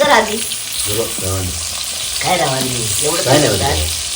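Pieces of fish sizzling in hot oil, a steady loud crackle and hiss running throughout, with someone talking over it intermittently.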